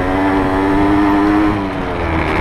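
A motorcycle on street tyres struggles in mud, its engine held at a loud, strained, steady rev up close, dipping slightly near the end, with no talk.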